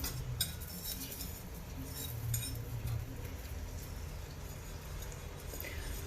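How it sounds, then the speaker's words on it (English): Butter being whisked as it melts in a heated saucepan, quick metallic clinks and ticks of the whisk against the pan over a low background hum. "To a heated saucepan, we put in 2 tablespoons of butter. Okay, and we whisk it well."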